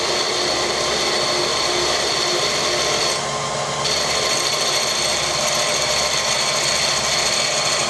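A power drill runs steadily, boring holes while paper gaskets are made, producing a continuous raspy whir that persists across the clip, with a brief shift in tone partway through and no talking.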